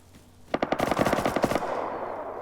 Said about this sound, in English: there's a gun battle going on